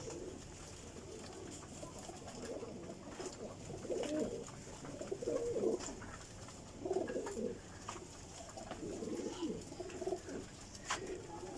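Ferozpuri pigeons coo in soft, repeated low bursts, several calls overlapping at close range against a steady background hiss.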